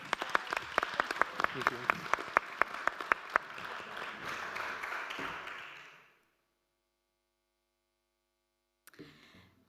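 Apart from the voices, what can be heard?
audience applause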